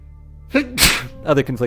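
A single sharp human sneeze, preceded by a short voiced intake and followed by brief murmured vocal sounds, close and loud in a quiet indoor setting.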